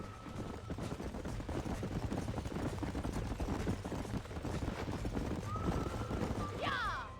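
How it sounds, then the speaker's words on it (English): Horses gallop with a steady clip-clop of hooves in Red Dead Redemption, and a sharp whinny rises near the end over a constant rumble of the game world. "These are fine horses."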